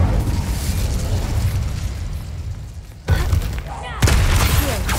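Incendio fire spell cast in Hogwarts Legacy, a loud roaring burst of flame and crackling impact noise, steady for a few seconds then punctuated by two sharper blasts near the end.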